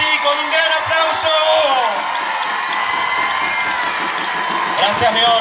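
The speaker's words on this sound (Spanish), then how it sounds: "lo saludamos así con un gran aplauso" Audience at a youth aerobics dance competition applauding and cheering a children's team, with whoops and shouts over steady crowd noise, loud and continuous throughout.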